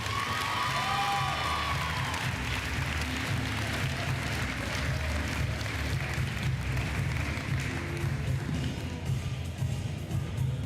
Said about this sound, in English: Let's give one more big round of applause for the middle school C team.